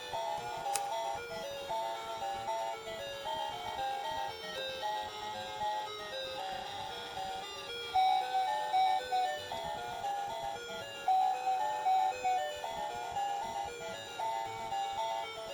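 A small electronic toy from a NECA retro video game action figure plays a tinny, looping beeping melody, thin and mechanical, continuing steadily with a faint background hiss and no talking.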